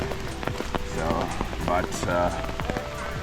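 Steady rain patters on leaves and ground in a Swiss forest, a dense, even hiss with scattered drip clicks, while someone talks briefly over it.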